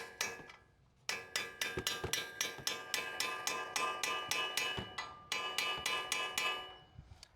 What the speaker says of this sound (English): So I'm going to take a punch and the hammer and just tap it through.